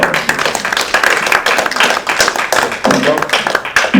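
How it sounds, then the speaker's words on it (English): Audience at a real estate livestream giving a panel a round of applause, close and loud clapping with a dense, irregular rhythm, heard over about four seconds. "please give them a warm round of applause"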